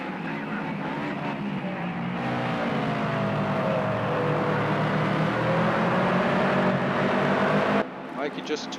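Toyota GT 86 race cars at Watkins Glen in Project Cars 2 drone steadily, engine whine rising and falling through gear changes, under continuous commentary.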